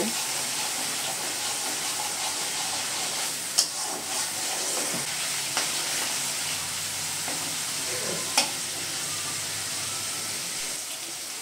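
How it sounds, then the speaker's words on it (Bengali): Marinated chicken for malai chicken sizzles in a pan with fried onions, a close, steady frying hiss broken by a few sharp clicks of the spoon against the pan. "এবারে আমরা এর মধ্যে আগে থেকে ম্যারিনেট করা চিকেনটা দিয়ে দেব"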